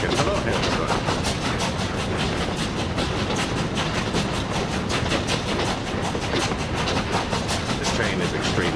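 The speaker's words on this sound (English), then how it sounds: "Train is extremely loud." A train in the city-building game Workers and Resources rumbles continuously and loudly throughout, a dense, steady rolling clatter with no pauses.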